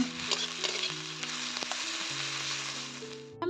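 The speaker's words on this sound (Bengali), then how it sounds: "এবার দিলাম আদা রসুন বাটা" Ginger garlic paste frying with onions in hot oil, giving a dense, continuous loud sizzle close up with a few faint stirring scrapes, no talking.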